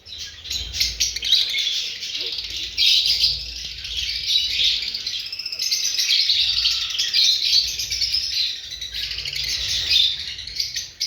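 A flock of pastelino and albino red-eyed lovebirds kept as breeding pairs chirps continuously in a dense, high-pitched chorus of overlapping tweets and squeaks, loud and close, with a low background rumble and no talk.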